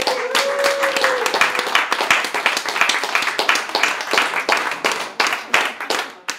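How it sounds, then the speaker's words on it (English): A crowd gives Jody a big round of applause at an education training event, with close, crisp hand claps in a dense, lively rhythm that holds steady for several seconds and then thins into scattered claps. "I think we need to give Jody a big round of applause."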